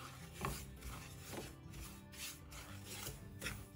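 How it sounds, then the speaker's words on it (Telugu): Semolina (rava) roasting in a pan over a low flame and being stirred, soft dry scraping and rasping strokes repeating at an uneven pace, quiet and close. "ఇలా తిప్పుకుంటూ ఫ్లేమ్ని లో ఫ్లేమ్లో పెట్టుకుని వేయించుకోండి"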